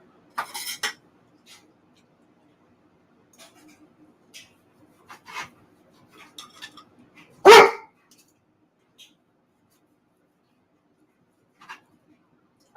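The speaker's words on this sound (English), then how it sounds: "I don't think that bark needs any translation" A pet dog at a steak and corn-on-the-cob dinner barks in two bursts: a short rough bark near the start and a sharp, loud bark midway, with quiet room noise and faint clatter between.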